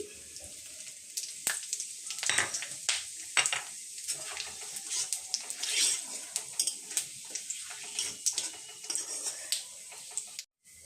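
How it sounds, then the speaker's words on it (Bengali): Whole tempering spices crackle and sizzle in hot mustard oil while Bengali jackfruit curry is being cooked, a close, continuous hiss broken by sharp pops and stirring scrapes until it cuts off at the end. "তেলটা আমার গরম হয়ে গেছে, এখন ফোড়নগুলি আমি দিয়ে দিচ্ছি।"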